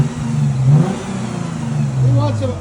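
A 2013 Lexus GS 350 all-wheel drive with a 3.5L V6 on its stock exhaust revs up twice, each rise swelling and settling back toward idle, close and fairly loud, with a voice talking over it.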